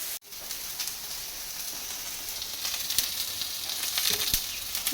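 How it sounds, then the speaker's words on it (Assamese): Chutney frying in a pan sends up a steady, close, bright sizzle that holds at an even level, with a few sharp pops rising out of the hiss toward the end. "ইফালে চাটনিকণি অকণমান ভাজি লৈছোঁ।"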